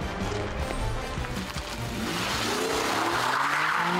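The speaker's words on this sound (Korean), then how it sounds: "강렬한 엔진 소리와 타이어 타는 냄새를 일으키며 같은 자리를 빙글빙글 도는 달인의 자동차." A mid-size car drifts in tight circles on the spot, its engine roaring steadily while the tires squeal and skid continuously, loud and close throughout.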